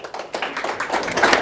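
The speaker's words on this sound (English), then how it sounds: "let's make a round of applause to Anna" An audience at a tech talk claps for a speaker, a short burst of many hands clapping that swells in density and loudness over about a second and a half.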